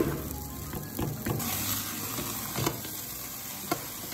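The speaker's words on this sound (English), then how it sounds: "add a slug of top quality olive oil to our pot and get ready to fry off the onion and garlic" Onion and garlic frying in olive oil in a pot, a close steady sizzle punctuated by several sharp stirring knocks and scrapes.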